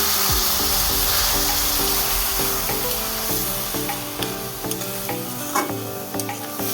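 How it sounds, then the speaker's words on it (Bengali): Rice and whole spices sizzle in a pan with a little added water as they are stirred, a dense, close hiss with repeated scraping strokes of a spoon against the pan. "এবার মশলাটাকে আর চালটাকে সামান্য একটু জল দিয়ে কষিয়ে নিচ্ছি।"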